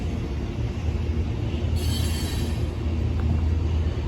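Amtrak passenger train with Superliner coaches passing close by, a steady loud rumble of wheels and cars rolling along the track with a brief high hiss partway through, no talk.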